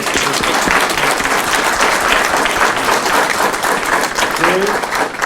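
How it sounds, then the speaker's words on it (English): A seated audience at a Palo Alto community event breaks into loud, sustained applause, a thick and steady roar of clapping lasting several seconds with some voices mixed in. "Can we get a round of applause before we open up the question?"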